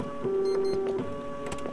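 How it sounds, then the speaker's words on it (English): A printer in the office horror game One Late Night runs with a steady mechanical whir and a sustained hum, broken by small clicks and clacks of the paper feed. No voices. "I also wonder who's using the printer."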